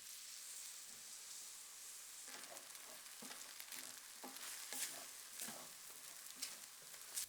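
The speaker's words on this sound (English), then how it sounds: "Next, deglaze the pan with some of the red wine." Red wine hits a hot pan and sizzles faintly during deglazing, a soft continuous hiss with light crackles and occasional scraping strokes, quiet and close, with no talk.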